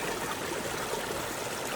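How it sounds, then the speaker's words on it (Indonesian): A clear river stream at Leuwi Raksamala in Ciamis flows in a loud, continuous rushing wash of water with no pauses and no voices. "ini ada aliran sungai dari dari Lewi Raksamalanya"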